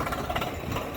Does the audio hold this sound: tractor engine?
yes